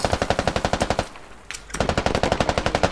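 Rapid automatic gunfire in the military shooter game Squad, loud and close, with a steady stream of shots that breaks off for about half a second, then a single crack and a brief pause before the burst resumes.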